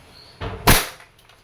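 A WE airsoft Glock 17 Gen 3 two-tone pistol fires once, a sharp snappy crack after a soft click, close and fairly loud with brief decay.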